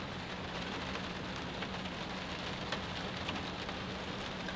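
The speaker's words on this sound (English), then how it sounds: "It's still raining" Steady rain falling on surfaces during a storm at a remote mountain truck camp, a continuous dense patter with scattered louder drops, no voices.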